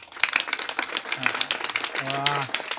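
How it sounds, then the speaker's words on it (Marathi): A kirtan audience claps steadily while a voice speaks and sings over the applause, which stays moderately loud throughout. "यांच्यासाठी एकदा जोरदार टाळी होऊ द्या।"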